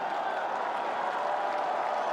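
Baseball crowd at Fenway Park cheering and applauding as Pedro Martinez works for a strikeout: a continuous, broad roar of voices and clapping that holds steady without peaks.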